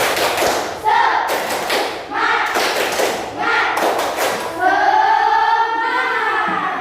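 Schoolchildren at an elementary school do a rhythmic spirit clap, bursts of loud group claps and thumps in patterned groups, with a class chanting along and voices rising at the end.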